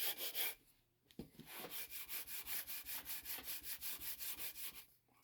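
Rhythmic back-and-forth sanding of wood, a steady series of scratchy strokes after a short pause, close and fairly loud.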